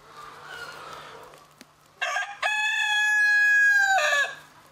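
A Korean native Ogye rooster, an all-black heritage chicken breed kept on a farm, crows once loud and close, a long sustained cock-a-doodle-doo preceded by a few short clucks, with quiet farmyard background.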